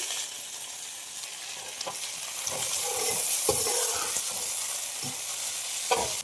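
Coriander and mint leaves sauté with onions in a pan for mutton biryani, a steady soft sizzle broken by occasional stirring scrapes and taps, close up with no talking.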